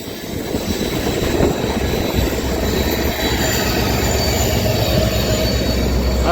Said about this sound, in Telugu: చూడండి డీజిల్ లోకో ఈ కొండల మధ్య ఎలా ఉందో, అసలు అదొక బీస్ట్ అని చెప్పుకోవాలి.